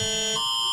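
Emergency alert alarm tone blaring from phones: a loud, piercing, steady electronic buzzing tone that shifts pitch partway through, heard alone.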